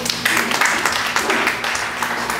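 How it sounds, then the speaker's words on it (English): Church congregation clapping in praise during a sermon, a short burst of many hands clapping together in a reverberant hall. "Let's give the Lord a clap of praise."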